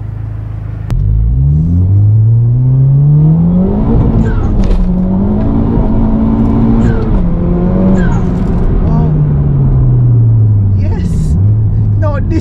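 A Honda Civic Type R FK8 engine revs up close toward its VTEC redline, climbing to a loud, sustained high-pitched howl that wavers as the throttle is held and then eases off.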